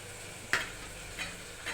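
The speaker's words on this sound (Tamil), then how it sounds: "அதனால் நல்லா வதக்கி நல்லா போட்டுருங்க" Vegetables sauté in a pan with a faint, steady sizzle, and a utensil stirs them in about three brief scraping clinks; no voices.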